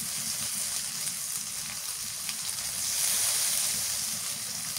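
Onion and chili frying in a pan with spices, a continuous even hiss of sizzling oil that swells slightly near the end, with no one talking.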